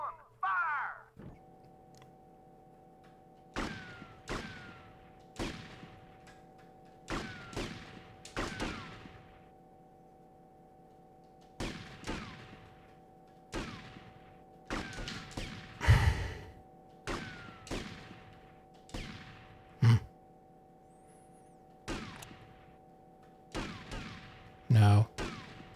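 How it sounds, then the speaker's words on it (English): Firing-squad volley from GTA Vice City on PS2: a long string of sharp gunshot cracks, spaced irregularly, some in quick pairs and bursts, over a steady hum of game music. "Live ammunition. Aim. 3, 2, 1, fire!"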